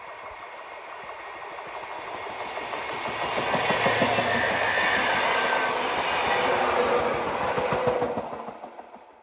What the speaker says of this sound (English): we even had a railroad track to walk over. We were lucky enough to catch one go by though.